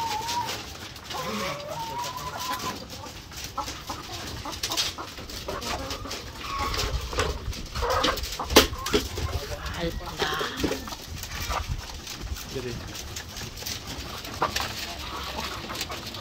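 White Leghorn and Black Australorp laying hens on a farm cluck and murmur steadily throughout, with someone talking over them and other birds and a dog audible in the background.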